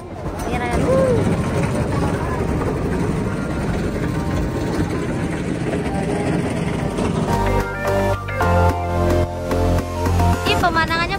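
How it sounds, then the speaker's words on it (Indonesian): A tourist boat engine rumbles steadily close by at the Lembang floating market while people talk over it, and the boat's rhythmic, tonal telolet horn melody plays near the end. "Ini perahu telolet guys."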